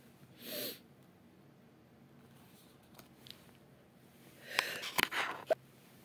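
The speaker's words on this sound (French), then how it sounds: "j'avais envie d'éternuer" A soft breathy burst early on, then a louder sneeze with sharp nasal bursts near the end, close and otherwise quiet.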